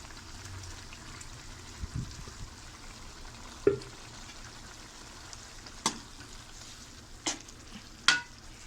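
A pan of mushroom gravy simmers with a soft steady bubbling and sizzle, broken by a few quiet clinks and scrapes of a spoon stirring.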